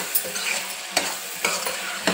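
Capsicum masala curry sizzles steadily in a pan over a low flame, with a spoon scraping and stirring about four times at regular intervals, close and fairly loud.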